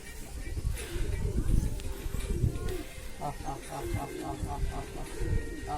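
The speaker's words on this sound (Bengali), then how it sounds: "আমাদের দুটো কবুতর খুবই ডাকাডাকি করছে" Two pigeons coo repeatedly in a steady, pulsing rhythm close by, the calls standing out clearly from the second half onward, while people talk over them and a low background rumble continues.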